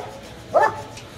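A single short dog bark, fairly close, standing out against quiet background noise at an outdoor Friday animal market in Alexandria.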